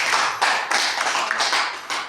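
Applause from an audience at a physiotherapy clinic, a few seconds of close, uneven clapping with sharp bursts and short dips, no talk.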